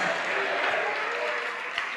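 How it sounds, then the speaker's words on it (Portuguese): A church congregation applauds in continuous, full clapping that holds at an even level, with faint voices mixed in beneath it. "vamos aplaudir mais, vamos aplaudir mais"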